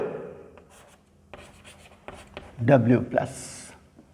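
Marker or chalk writing gametes onto a board in a Punnett-square lesson, short scratchy strokes under a man's explanatory speech, with a denser burst of writing near the middle.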